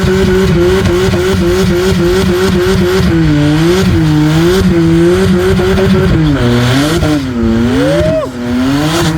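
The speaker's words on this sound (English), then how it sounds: "Mark 1 naturally aspirated, taking on BMW M3." A naturally aspirated Mk1 Volkswagen Golf races a BMW M3 at a drag event, engines roaring loudly and up close, revving through rising and falling gear changes.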